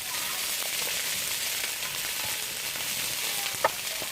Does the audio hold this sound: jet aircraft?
no